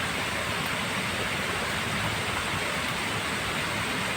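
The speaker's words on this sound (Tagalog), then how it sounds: "Yung napakalakas ng ulan." Very heavy rain pours down at night during an eel-hunting outing, a dense, steady roar of broadband hiss that fills the whole clip without pause, with no voices.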